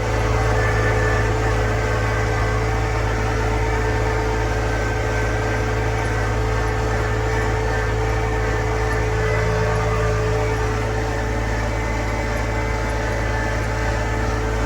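A John Deere 1025R compact tractor's engine drones steadily and loudly through the whole clip, a low constant rumble with a hum on top, heard from inside its enclosed Curtis cab.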